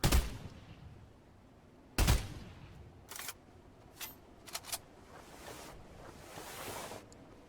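Burst-fire weapon shots in the Fortnite video game, a sharp burst near the start and another around two seconds, followed by several fainter, spaced-out shot bursts against a low background hiss.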